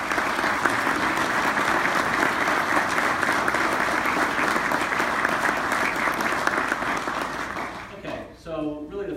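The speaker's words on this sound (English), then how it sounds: "we can give you a round of applause to the staff" An audience at a stakeholders' breakfast gives the staff a sustained round of applause, dense steady clapping that fills the room before fading out into a voice speaking at the end.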